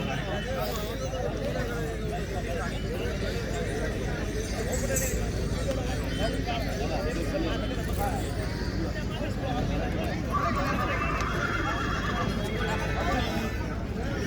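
Horses gather at a horse show competition at the Jawai Dam festival in Ranakpur, with neighing and hoof sounds heard amid a loud, busy crowd and someone speaking throughout.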